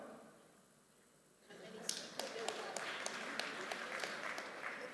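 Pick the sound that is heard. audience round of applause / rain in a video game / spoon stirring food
audience round of applause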